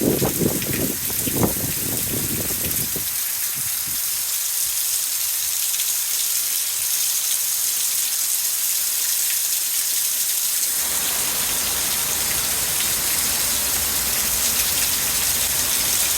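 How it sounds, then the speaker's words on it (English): Heavy rain pours down in a steady, dense, loud hiss that fills the whole stretch, with a few low rumbling bursts near the start. "That's a big rain."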